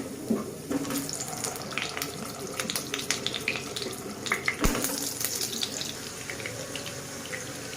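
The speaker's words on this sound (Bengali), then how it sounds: "তেল গরম হয়ে গেছে, দিয়ে দেব আলুগুলো" Potatoes go into hot oil in a home kitchen, where they sputter and crackle with a busy, irregular sizzle that flares in bursts, heard up close at quiet level.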